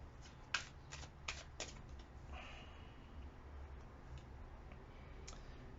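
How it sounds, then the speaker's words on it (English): Tarot cards being shuffled, a few quick riffling bursts near the start followed by softer sporadic card clicks against a quiet room hum. "Two more shuffles."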